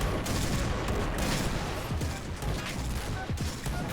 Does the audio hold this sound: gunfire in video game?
yes